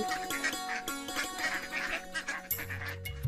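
A duck quacks several times on a pond bank in an animated cartoon, a busy, tonal mix with a steady hum underneath.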